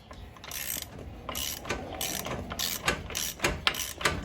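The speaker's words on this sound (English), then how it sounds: "so I'm gonna go ahead and put this nut on." A ratchet clicks in quick bursts while a nut is tightened onto a Honda Civic lower ball joint, with close, fairly quiet strokes repeating irregularly over a few seconds and no talking.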